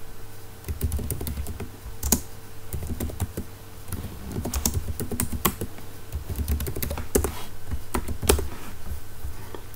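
Fingers type on a computer keyboard to enter a username, quick irregular clicks and taps in bursts over steady faint room hum, close and clear without speech.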